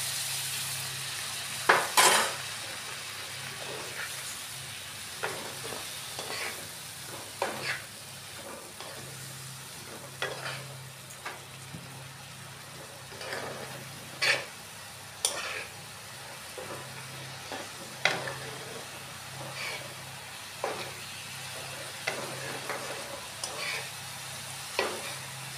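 Spice paste for an egg poach curry frying quietly in a pan, a soft steady sizzle broken by repeated scraping stirs and occasional sharp clinks of a spoon against the pan.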